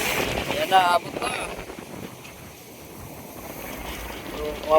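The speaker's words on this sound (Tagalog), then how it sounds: "Grabe yung amihan dito sa amin mga idol, hindi tayo makapaglaot. Malakas yung hangin." Strong northeast monsoon wind buffets the microphone at a seawall in Malilipot, Albay, with gusty roaring bursts over crashing surf and someone speaking.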